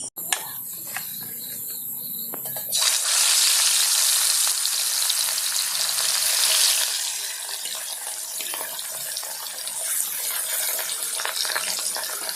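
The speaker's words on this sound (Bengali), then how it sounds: "তেল গরম হয়ে গেছে, এবার মাছ দিয়ে দেব।" Katla fish dropped into hot white oil in a kadai, a sudden loud burst of sizzling after a quieter start, then steady crackling frying that eases slightly, with no voices.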